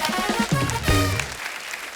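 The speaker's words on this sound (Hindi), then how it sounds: "जोरदार तालियां हमारे गेस्ट के लिए।" A studio audience on a television comedy talk show applauds to welcome a guest chef, a short burst of clapping with music and voices mixed in before it thins out.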